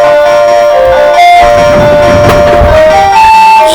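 Background music from the Shrek video game, a mangled take on the Lost Woods melody, with sustained tonal synth lines shifting pitch over a busy accompaniment, loud and continuous with no talk.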